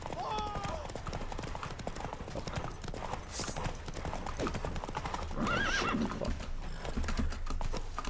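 Roach the horse gallops in The Witcher 3, hooves clip-clopping in a rapid steady rhythm with a neigh rising partway through, under game music and effects, while a player talks over it.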